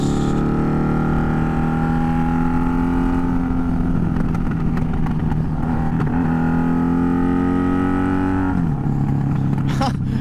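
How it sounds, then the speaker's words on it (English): A Honda Magna motorcycle engine runs steadily up close, its loud harmonic drone holding throughout with slight pitch rises and a dip near the end, with no talking over it. "I could probably just upload a video of this bike just straight making noise"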